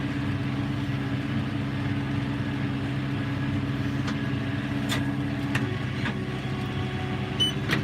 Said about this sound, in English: The cab is really quiet compared to other tractors I have rode in.